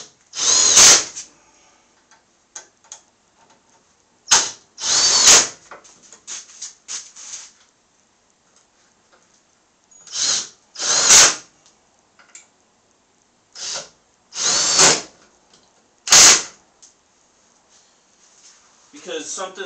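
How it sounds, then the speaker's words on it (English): A power drill drives screws into countersunk holes while building a budget racing rig, sounding in short loud whirring bursts spaced through the clip, with pauses and some background noise between runs. "I'm going to drill that one in a little bit harder."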